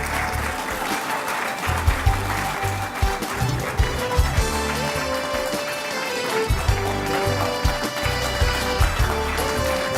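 An audience applauds the president at a formal address, sustained clapping with scattered louder claps running the full stretch, close and dense.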